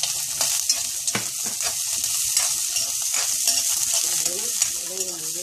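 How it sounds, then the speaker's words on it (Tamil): Fenugreek leaves sauté in a hot pan for a kuzhambu gravy, a bright, close sizzle punctuated by brief scraping stirs. "வதங்கினவுடன் வெந்தயக் கீரையும்"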